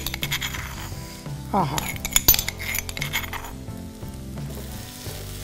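Crushed garlic and green chillies drop into okra frying in a pan, setting off a steady sizzle with stirring and clinks of a utensil against the pan, as a voice speaks briefly over the cooking.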